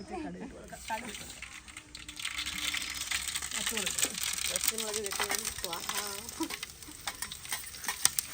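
Mustard seeds and dried red chillies fry in hot oil in a covered uruli for Kerala-style beef roast, a steady crackling sizzle with stirring scrapes, while a voice talks over it.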